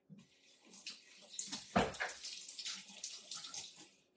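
Small food molds are rinsed under a tap, making a brief, quiet gush of running water that swells and fades in the kitchen.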